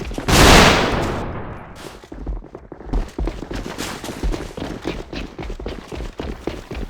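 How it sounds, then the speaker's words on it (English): A loud explosive blast followed by rapid bursts of automatic gunfire in the shooter game Alliance of Valiant Arms, sharp repeated cracks continuing steadily, with game sound effects and no talking. "Gonna be having a lot of gunfire inside the corner."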